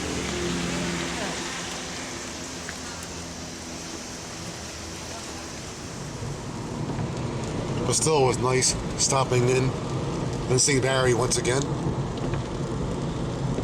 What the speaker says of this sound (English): still some raindrops coming down